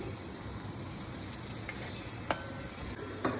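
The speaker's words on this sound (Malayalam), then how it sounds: "കുറച്ച് വെളിച്ചെണ്ണ വളരെ കുറച്ച് മതി" Vegetables frying in a little coconut oil for a Kerala theeyal curry give a faint, steady sizzle with a few sharp clicks of stirring near the end.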